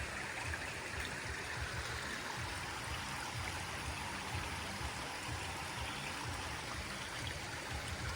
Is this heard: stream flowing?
yes